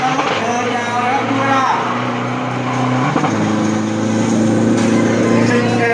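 Isuzu D-Max drag racing pickup, a 3000 cc turbo build weighing 1,550 kg, its engine droning loud and steady with a pitch shift midway, under a talking announcer.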